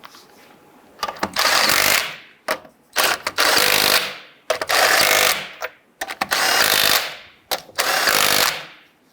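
An impact-style power tool snugs down bolts on a 1994-2004 Ford Mustang front lower ball joint, firing in five loud, sustained rattling bursts separated by short pauses, close up with no talk.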